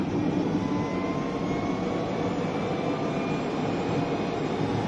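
A steady, loud rush of road and wind noise with a faint electric whine that rises gradually as a Citroën Ami small electric car picks up speed. No one speaks.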